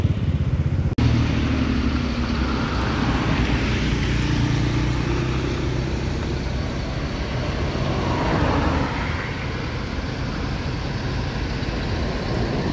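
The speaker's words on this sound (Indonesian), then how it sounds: "Baru masuk dua bus" Steady loud roar of arriving buses at close range, a large engine droning and traffic rumbling continuously without pause.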